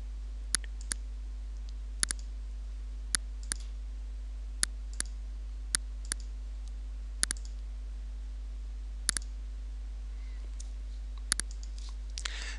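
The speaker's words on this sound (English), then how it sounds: "With a single mouse click, you can show or hide the various types of radii." Sharp single mouse clicks, some in quick pairs, spaced irregularly over quiet background hum, close and crisp.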